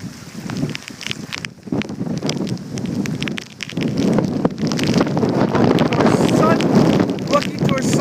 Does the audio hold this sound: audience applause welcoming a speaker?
no